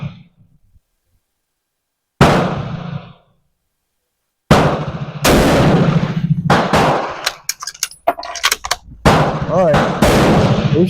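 Several sharp shots from an M47 Madsen rifle fired at a target, loud and close, with bursts separated by short pauses and some talk mixed in between the reports.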